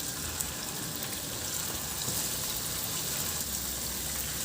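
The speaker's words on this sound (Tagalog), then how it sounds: "At prituhin na natin yung ating chicken wings." Chicken wings coated in cornstarch frying in hot oil in a pan, a steady close hiss and crackle of sizzling with faint pops throughout, no voices.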